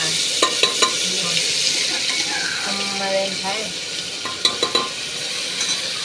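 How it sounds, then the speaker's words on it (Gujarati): Spices crackle and sizzle in hot oil with a bright hiss, some sharp pops near the start and end, while a voice speaks briefly. "અને હવે આપણે કરવાનો છે વઘાર"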